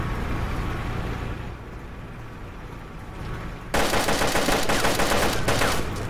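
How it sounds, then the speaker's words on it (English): Gunfire in the survival video game DayZ: a low vehicle-like rumble gives way to a sudden loud burst of rapid, repeated shots that continues to the end. "why are you shooting me?"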